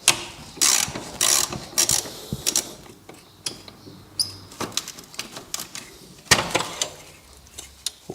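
A socket wrench ratchets on a headlight of a Ford Focus Mk1. The close, sharp clicking comes in several quick bursts separated by pauses, with small metallic knocks and handling noises between them.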